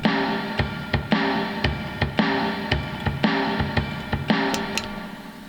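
A Blues 3 preset drum beat from a Donner looper pedal, set at 113 BPM. It runs as a steady shuffling groove with regular kick and snare hits over a continuous bed of cymbal wash.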